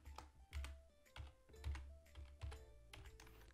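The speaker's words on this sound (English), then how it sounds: "you need to type a command in command box here and type pickauto" Clicking keystrokes on a computer keyboard as a command is typed into AutoCAD, a close, irregular burst of taps and key presses with short pauses, no voices.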